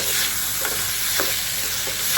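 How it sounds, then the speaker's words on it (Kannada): Food in a frying pan being stirred after a pinch of salt is added during home lunch cooking: a steady sizzling hiss runs throughout, broken by about four close scraping strokes of the spoon against the pan. "ಮತ್ತೊಂದು ಸ್ವಲ್ಪ ಉಪ್ಪು ಹಾಕಿ ತಿರುಗಾಡಕತ್ತೀನಿ"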